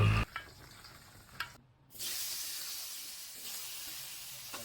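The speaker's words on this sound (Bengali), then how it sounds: "ওই তেলে আলুগুলোর মধ্যে লবণ হলুদ নিয়ে মেখে নিয়ে ভেজে নিব" Potato pieces rubbed with salt and turmeric frying in oil in a pan, with a couple of quick knocks and a brief pause, then a steady, close, hissing sizzle that continues to the end, with no talking.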